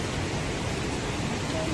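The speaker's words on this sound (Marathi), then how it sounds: "बघा धबधब्याचा आवाज आता आपल्याला जास्त ऐकायला येतो" Steady broadband rush of water from a small waterfall at Thoseghar, close and continuous, filling the whole clip with an even roar and no voices.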